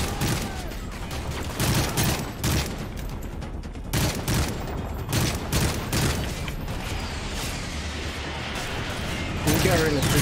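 Gunfire in Call of Duty Modern Warfare 3: repeated sharp shots and automatic bursts, close and loud, spread across the whole stretch, with a player talking intermittently over the shooting.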